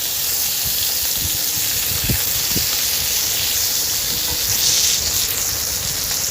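Roe-filled bata fish fry in hot oil in a wok while being gently turned, producing a constant close hiss and sizzle with a few faint low knocks partway through; no one speaks.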